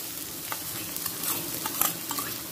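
Chopped onion goes into garlic frying in a pan for a plain tarka dal, giving a steady close sizzle with scattered light scrapes and stirring clicks.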